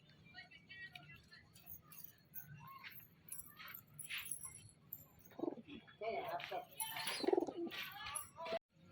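Soft pigeon coos and bird calls in a quiet indoor space, with a person talking over them and some shuffling and clattering toward the end.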